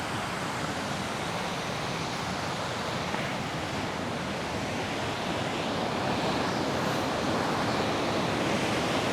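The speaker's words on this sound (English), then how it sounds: "I hear something pretty dramatic rushing water." Rapids near the Missouri River headwaters in Montana roar as a dense, constant wash of rushing water, loud and close, filling the air without pause or speech.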